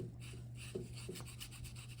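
Construction paper rubs over dry-brushed white paint on a carved wooden caricature figure, making soft, close, scratchy strokes in a quiet room with no talking.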